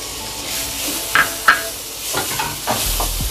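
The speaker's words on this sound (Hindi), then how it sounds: "थोड़ा सा तेल डालेंगे, गाजर जो हमने क्रश करके रखा है वो हम डालेंगे" Crushed carrot going into a little hot oil in a pan for a veg patty, a close crackling sizzle with a couple of sharp metallic knocks and stirring scrapes, no voices.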